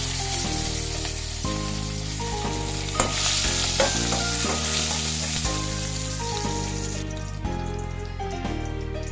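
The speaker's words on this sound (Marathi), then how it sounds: "इथे मी तेल गरम करत ठेवलं। आता त्यात जिरा व मोहरी ऍड करते।" Cumin, mustard seeds, curry leaves and dried red chillies sizzle in hot oil, making a continuous hiss beneath a loud, steady bed of tonal background music.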